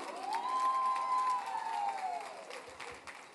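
Applause and cheering at an award ceremony honoring the Cotuisano of the year 2018: a crowd roars and claps, with one long, loud sustained whoop rising above the steady wash of noise before it eases off.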